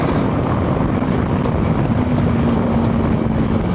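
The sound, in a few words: TVS Apache RTX 300 motorcycle engine accelerating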